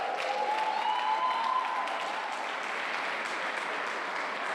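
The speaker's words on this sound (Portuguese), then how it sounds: "Dá também uma salva de palmas" A church congregation at a Dunamis conference in Bauru applauds, a steady blended wash of clapping that holds evenly throughout at moderate level, with a faint sustained tone running underneath.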